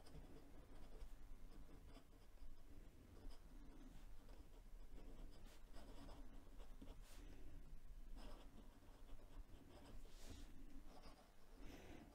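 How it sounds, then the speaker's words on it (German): A Hongdian A3 fountain pen nib drags across paper while writing, producing a faint, continuous scratching that runs steadily throughout. "Und dann hört man auch ein deutliches Schreibgeräusch."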